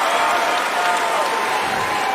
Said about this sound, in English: That is a nice ovation.